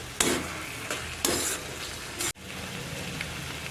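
Peanut curry sautés in a pan over a low flame, a soft steady sizzle with a few louder stirring scrapes near the start, close up and with no talking.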